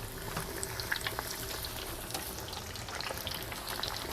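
Steady, dense sizzling and crackling of flour-dusted crucian carp deep frying in hot oil in a cauldron, continuous and close, with no voices.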